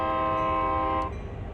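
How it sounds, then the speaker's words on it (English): A GP38-2 diesel locomotive horn in Train Sim World 2020 sounds one loud, sustained chord that cuts off abruptly, leaving a low engine rumble. "Double honk there."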